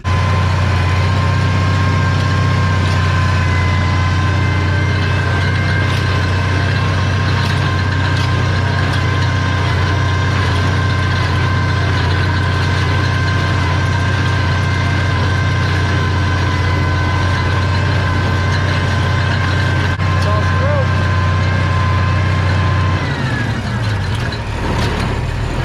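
A tractor runs at a heavy steady drone while baling hay, loud and continuous with a constant low engine hum and mechanical whine, dropping off near the end.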